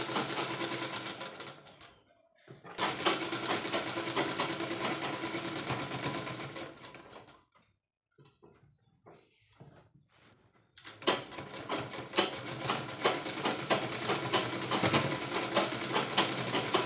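Sewing machine running in long bursts while a readymade nightie is stitched tighter, a steady close whirring that stops twice for a few seconds before resuming.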